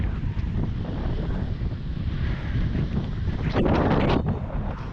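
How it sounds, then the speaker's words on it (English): Strong monsoon wind buffets the microphone at Changi Beach in Singapore during a wingfoil race, a loud continuous low rumble with gusty surges and a brief splashy burst near the end, no voices. "there's the storm producing a good amount of wind"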